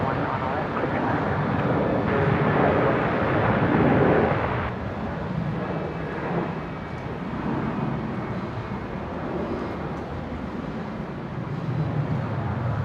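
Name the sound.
aircraft landing at Brisbane airport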